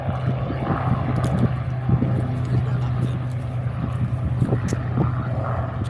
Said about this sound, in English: the B-55 Baron's just lifted off the runway again